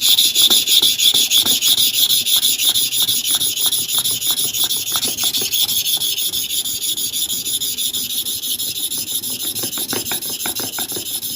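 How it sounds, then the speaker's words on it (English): Starex clipper blades are rubbed back and forth across double-surface sharpening stones, making a rapid, rhythmic, rasping scrape. The grinding is close and steady, with no talk, and eases slightly toward the end. "I want to start the sharpening from here."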